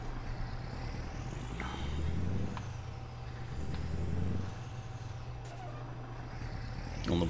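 A heavy truck in American Truck Simulator, driving in Oregon, idles with a low engine drone while air brakes hiss and release in a couple of bursts, close and moderately loud, with no talking.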